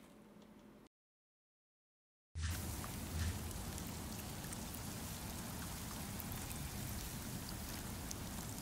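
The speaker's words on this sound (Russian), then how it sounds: "И это очень атмосферная локация, где постоянно плохая погода, идет дождь." Steady rain falling in a stormy location of the Demon's Souls Remake video game, a dense continuous hiss that starts abruptly after a moment of silence and continues evenly at a moderate level.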